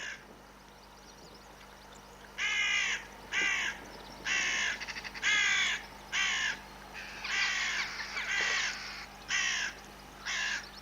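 Crows caw outdoors in a series of about ten harsh, raspy calls. The calls come in bursts at moderate distance, heard over a quiet background hum with no talking.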